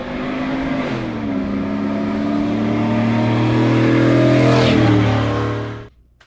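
A 5.3 V8 pickup truck with its DynoVox exhaust cutout open roars past at steady speed, a loud deep engine drone that swells as it nears, shifts pitch while passing, then drops away abruptly.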